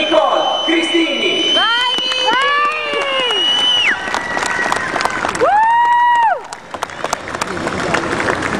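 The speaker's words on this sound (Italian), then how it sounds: "Signore e signori, un grande applauso per Nicole Cristini." Applause and cheering from a gala audience for a young gymnast rise over loud announcer-style speech and music, with a steady crowd wash running throughout.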